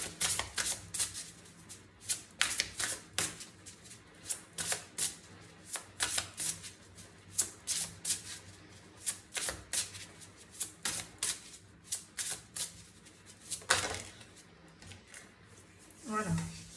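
Oracle cards being shuffled in a series of quick, crisp riffling bursts with short pauses between, close and fairly quiet, with a soft hum beneath.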